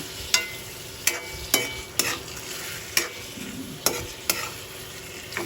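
Shrimp sautéing with sliced green chili, ginger, onion, garlic and tomato in a pan, an even sizzle broken by about eight crisp, regular spatula knocks against the metal, close by.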